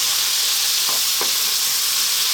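Chopped garlic and dried thyme sizzle in a pan over medium heat, a loud continuous frying hiss with a couple of brief stirring scrapes, no talking.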